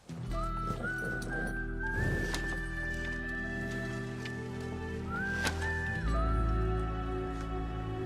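A horse in a Hindi feature film scene makes faint clip-clop and whinny-like sounds against a steady musical background, with no talk in this stretch.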